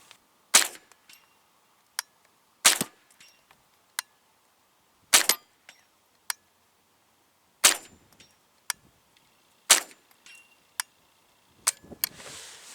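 Gunshots ring out during outdoor target shooting, about a dozen sharp cracks at irregular intervals with short echoing tails and quiet gaps between them.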